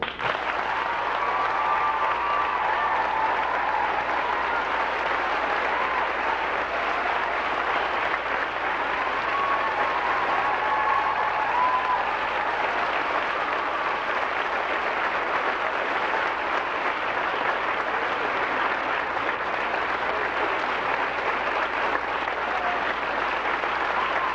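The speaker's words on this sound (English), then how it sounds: "I can tell from that applause that you don't need me at all." Long, sustained applause from a large audience welcoming Gloria Steinem, an even wash of many hands clapping at moderate level, continuing without pause for over twenty seconds.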